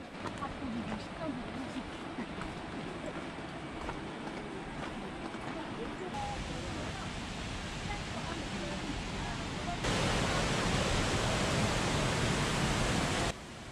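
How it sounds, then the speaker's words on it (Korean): Rushing water from Banias waterfall in Israel makes a steady broadband roar that continues unbroken and grows louder toward the end. "이렇게 길을 계속 가다 보면 점점 물소리가 들립니다."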